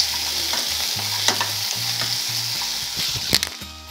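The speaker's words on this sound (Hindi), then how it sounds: "इसे हमें ज़्यादा नहीं भूनना है, बस 5 मिनट इसे थोड़ा हमें भूनना है।" Tomatoes and a few cashews stirred and fried in a pan for a mixed vegetable gravy, a steady close sizzle with scraping spoon strokes and a sharp clatter near the end.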